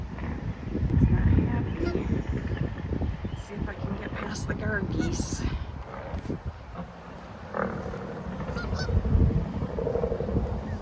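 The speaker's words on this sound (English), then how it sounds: "The guard geese." Geese honk in rough, repeated calls amid an outdoor din along the Erie Canal, with a person talking at times.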